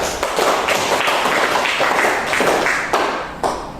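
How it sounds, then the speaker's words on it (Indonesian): A classroom of students claps for a student group in a steady, loud burst of hand claps. The applause has a slightly uneven, pulsing rhythm and fades briefly near the end before a final surge. "Kita beri tepuk tangan untuk kelompok 2"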